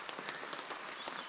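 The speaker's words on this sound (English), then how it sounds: "if you can hear it, it's raining a little bit" Light rain pattering steadily on a tent at a lakeside campsite in the early morning, a soft, faint, even crackle of small drops with no voices.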